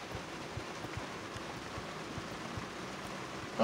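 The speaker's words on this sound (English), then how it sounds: "This rain just makes me want to go back to sleep." Light rain outside a grocery store on a workday, a faint, continuous hiss with a few soft taps and no voices.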